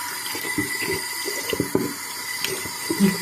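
PC RAM sticks being rinsed of soap under a running tap, with close, uneven splashing and trickling water and a few louder spatters.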